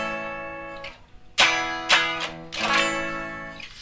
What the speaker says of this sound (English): There's a thing called a perfect cadence in a major key, which is when you go to chord 5 to chord 1